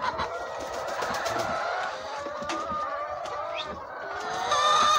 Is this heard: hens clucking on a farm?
yes